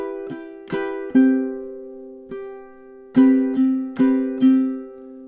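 Ukulele plays measures 25 and 26 of a song: two early plucked notes, a pause, a soft single note, then four more evenly spaced plucks ringing over a sustained low chord, close and clear with no voices.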